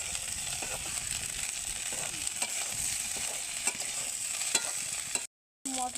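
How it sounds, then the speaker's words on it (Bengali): Flat beans hit a frying pan with a steady, close sizzle and occasional scraping stirs, then a brief cut of silence before the frying resumes; no talk over it. "আমরা সিমটা দিয়ে দিচ্ছি।"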